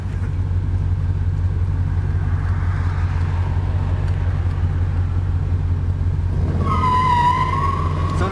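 A 1973 Plymouth Duster on a road test rumbles with a steady low engine drone, then near the end revs up as a wheel spins, adding a rising tonal whine.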